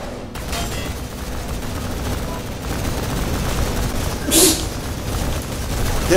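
Rapid, dense gunfire from the video game Line of Sight rattles continuously, with a sharper burst near the end and voices faintly mixed underneath.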